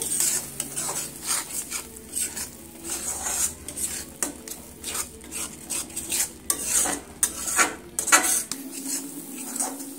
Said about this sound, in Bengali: আরো মিনিট 3 সময় নিয়ে সুন্দর করে কষিয়ে নিয়েছি।